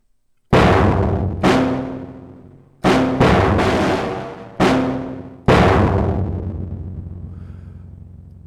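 Heavy distorted rock drum kit sample hits strike one by one, about six crashing blows, each ringing out with a long, gritty decay.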